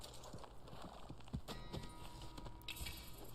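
Horse hooves clip-clopping at a walk in the video game Red Dead Online, a few distinct close hoofbeats over a low ambient game background.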